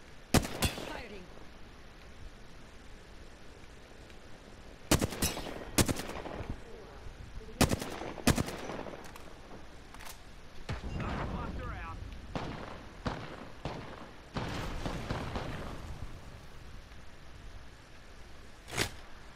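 Gunfire in the video game Apex Legends: scattered sharp shots and short bursts crack over a steady low game hum, spread irregularly across the span, with players talking in between.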